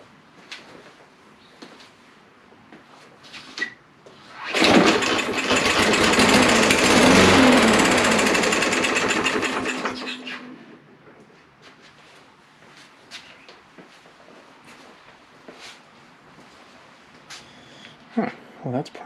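A small engine, flooded with water and fitted with a new spark plug, is pull-started and roars loudly for about five seconds before dying, with faint talk and handling noises before and after.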